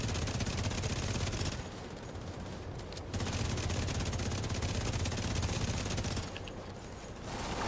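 Sustained automatic gunfire at a target in a PVE video game, a loud, dense, unbroken barrage with only brief dips in intensity.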